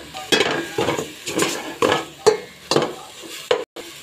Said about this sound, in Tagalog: Lutuin ko lang siya yung miso. Igisa ko lang siya ng konti.